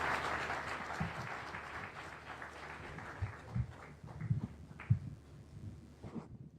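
Audience applause following a speech by the Kenyan president at Google's 15th anniversary celebration in Kenya: broad clapping that gradually thins out into scattered individual claps and a few louder single hits.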